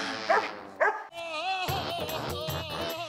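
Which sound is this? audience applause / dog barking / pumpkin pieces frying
dog barking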